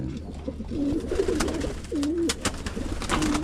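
Pigeons at a loft during bath time give several soft, low throaty coos in short phrases over a busy background of rustling and small knocks.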